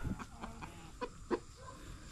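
Chickens on a Filipino egg farm, roosters and hens clucking in short, scattered bursts at moderate distance, one louder cluck standing out, with faint background farm noise.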